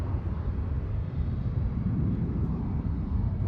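An airliner arrives from Gainesville, Georgia, at Charlotte Douglas International Airport. Its steady, broad jet roar fills the short stretch with no break.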